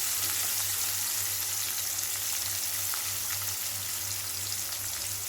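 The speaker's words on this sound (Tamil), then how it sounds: "வெங்காயம் நல்லா வதங்கட்டும்" Chopped onions and curry leaves fry in hot oil in a pan with a steady, even sizzle and a low background hum, with no speech over it.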